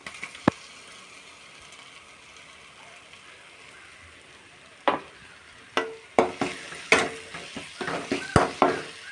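Chicken masala powder being stirred and fried in a pan for chicken curry: a faint sizzling bed, a single scrape early, then a string of sharp spoon-on-pan scrapes and clatters in a quickening rhythm toward the end, close and without voices.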